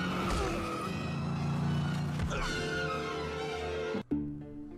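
A car engine revving and pulling away in the Aqua Teen Hunger Force: Zombie Ninja Pro Am video game, a loud sustained roar that rises in pitch and then cuts off abruptly near the end.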